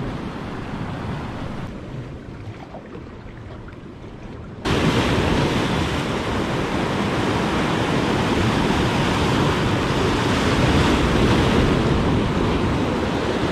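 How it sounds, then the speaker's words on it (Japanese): Sea waves wash against a rocky shore on a calm day, a steady broadband surf that grows sharply louder and closer partway through, then stays at that full roar to the end. "こういう風に波ちょっとあるように見えるんですけどね"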